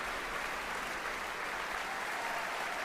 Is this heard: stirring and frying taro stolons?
no